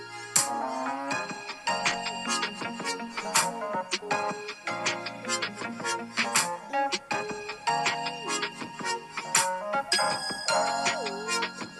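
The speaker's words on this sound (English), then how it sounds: "why is this ringtone so good?" Samsung Sparkle ringtone from 2020, a bright, loud sequence of chiming, bell-like melodic notes that repeats in quick phrases for several seconds.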